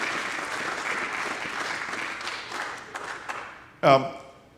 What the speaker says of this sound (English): let's give a little round of applause for Jack and Susan and Keith, who made this space possible